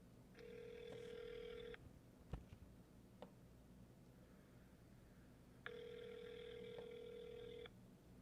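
Two long electronic rings of a telephone on a call, separated by a few seconds of quiet with a couple of faint clicks, each ring steady and clear with no talking.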